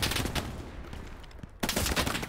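Rapid bursts of automatic gunfire from the World War II shooter game Hell Let Loose crack close and loud, break off into a quieter lull, then resume in a dense, heavy volley.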